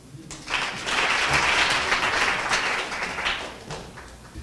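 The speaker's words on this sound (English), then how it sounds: "Let's give Tony another round of applause." An audience at an award ceremony bursts into warm, continuous applause that swells quickly and holds steady, filling the hall.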